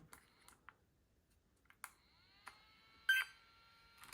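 Hosim X07 RC car's ESC powering on, a few sharp clicks and then sustained electronic tones with a bright beep near the end, quiet and close.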